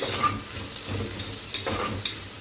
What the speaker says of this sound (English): we will fry it for another 5 to 10 minutes till the onions are little brown